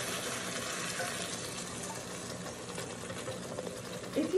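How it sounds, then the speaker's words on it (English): Water is poured into a slow cooker over Salisbury steaks, giving a soft, continuous trickling and splashing that stays faint throughout and ends with a brief knock. "You just pour that right over."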